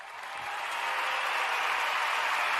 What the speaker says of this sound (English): where is my applause?